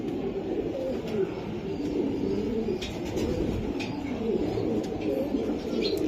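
A female racing pigeon gives repeated low, throaty coos close by against a steady murmur of background noise.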